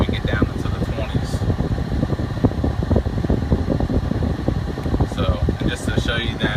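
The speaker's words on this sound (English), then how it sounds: "We started the AC for you guys, hasn't been running." A steady, whooshing blower hum from the air conditioning of a Stage 2 Jeep Cherokee Classic with 58k miles, idling, runs throughout at an even level while someone talks over it.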